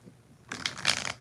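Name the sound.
shuffling tarot cards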